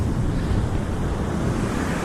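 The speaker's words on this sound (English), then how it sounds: "I'm standing at the ocean." Rough surf pounds the beach at Duck, North Carolina, a loud, steady roar of breaking ocean waves mixed with heavy wind buffeting the microphone, with no voices.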